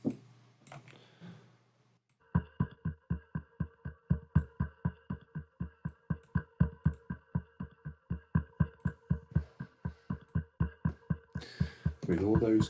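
A low pulse synth patch from the Soundiron Luminabells library beats in a fast, steady rhythm of soft low throbs with a bell-like tonal shimmer, running alone after a brief spoken lead-in and ending in a swell.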